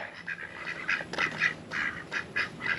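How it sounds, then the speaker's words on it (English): A mallard duck quacks close by at a state park lake, giving repeated raspy nasal calls in short uneven bursts over quiet outdoor background. "Oh, nice duck, mallard."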